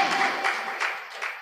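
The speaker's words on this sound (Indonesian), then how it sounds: "Tepuk tangan buat Yesus yang dahsyat." Congregation applause during a Sunday church service, a brief patter of clapping in a few light waves that fades quickly, sounding somewhat distant in the hall.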